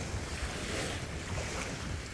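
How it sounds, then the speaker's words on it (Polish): Sea waves roll at a beach in Croatia, a steady wash of surf close by with wind buffeting the microphone and no voices. "Fale nam się zrobiły."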